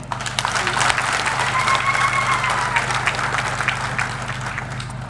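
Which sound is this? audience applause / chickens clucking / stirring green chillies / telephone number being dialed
audience applause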